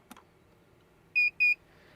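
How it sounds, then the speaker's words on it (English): Two short, bright electronic beeps in quick succession from a LevelMatePRO+ RV leveling device, clear and close, following a faint click in an otherwise quiet room. "You'll hear a beep."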